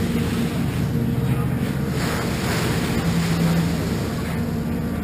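Boat pulling away in Hamburg harbour, with continuous rushing water and waves mixed with strong wind buffeting the microphone, loud and steady with no break.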